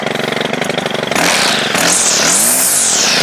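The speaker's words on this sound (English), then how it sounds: "this trimmer actually works quite well" A Stihl FS100RX string trimmer engine, loud and close, idling with a rough pulse and then revving hard into a high whine that rises and falls through several throttle blips.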